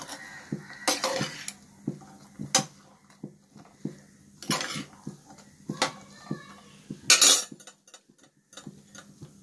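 A knife finely chops onion and tomato on a board for a green pea salad in a home kitchen. Irregular close taps and knocks are broken by a few louder clattering bursts.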